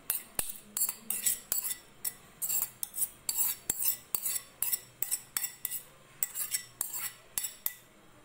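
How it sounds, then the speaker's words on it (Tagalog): A utensil stirring mashed banana into cake batter in a bowl, giving a fast steady series of clinking scrapes against the bowl, close and clear with no talking. "Hihahalo na natin yan."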